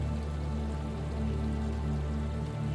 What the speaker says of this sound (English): a place of pure flowing water, a waterfall